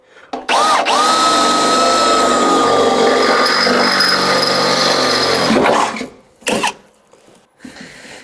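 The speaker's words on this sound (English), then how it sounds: "I need to drill these two holes out" A power drill bores holes for rivnuts in the metal body of a square-body truck during an LSA supercharger install, a loud sustained whine for about five seconds, then a short second burst.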